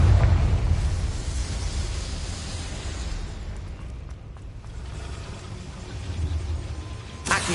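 A Confringo blast spell erupts in Hogwarts Legacy, a loud booming explosion with heavy low rumble that fades over several seconds before a sharp second crack near the end.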